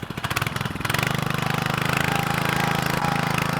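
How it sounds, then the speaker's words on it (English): A power auger drills a fence post hole in a backyard, its small engine running loud and steady at a continuous rhythmic drone through the whole stretch, with a brief sharper start at the beginning. "We want to just try to hold it steady and let the auger do the work."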